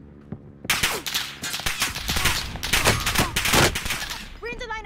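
Gunfire in the Call of Duty: Modern Warfare video game, loud overlapping bursts of automatic shots and fusillade, close and dense, with a voice speaking near the end.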